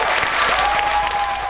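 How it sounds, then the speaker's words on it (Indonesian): Brief, loud applause from an audience at an Islamic religious gathering, a dense burst of clapping with a faint tone running underneath. "Tepuk tangan dong"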